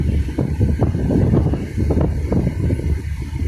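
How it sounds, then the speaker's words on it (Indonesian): Strong wind buffets the microphone at a ferry harbour dock, a continuous low rumbling gust that swells and dips throughout. "cuaca anginnya kencang banget nih"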